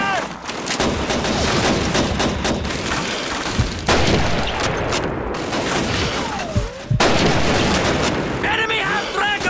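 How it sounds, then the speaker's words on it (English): Suppressing gunfire in the WWII shooter Call of Duty 2: dense, loud, continuous bursts of rifle and machine-gun fire crackle and boom throughout, with shouted voices over the din. "suppressing fire!"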